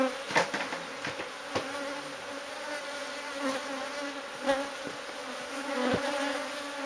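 Honeybees buzzing steadily around a hive being removed from a drum, a close, continuous drone with scattered sharper knocks and handling bumps throughout.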